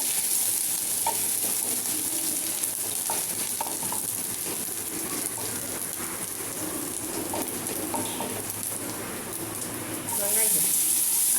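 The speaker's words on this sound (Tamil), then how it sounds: "அடுத்தது இஞ்சி, நல்லா ஃப்ரை பண்ணிக்கணும்." Garlic and ginger frying in a pan, a steady dense sizzle like rain on a surface with occasional stirring knocks, rising louder near the end, under faint talk.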